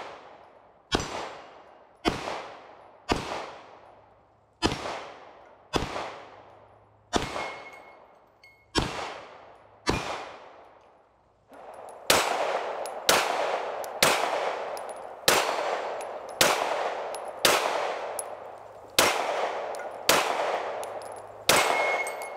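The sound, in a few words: pistol gunshots at a shooting range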